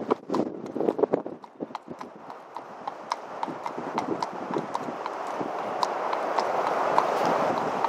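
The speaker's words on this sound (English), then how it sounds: "Okay, Jeremy, we'll turn the horse around, and then once you start to walk, I'll turn the measurement on" Shod horse walking on a hard surface during a gait measurement, its hooves giving a steady, close clip-clop rhythm that carries on under a growing background hum.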